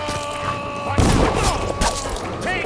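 Gunfire during a firefight in the stealth action game Dishonored, with a sudden loud burst of shots and impacts at about one second, followed by further bangs and clatter over dense, busy game noise.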